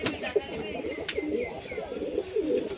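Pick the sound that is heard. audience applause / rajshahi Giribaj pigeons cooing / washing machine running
rajshahi Giribaj pigeons cooing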